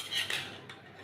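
Fried potatoes tipped into a pot of pilaf, giving a short clatter of utensil against cookware with a brief scraping stir, close and fairly quiet, with no voices.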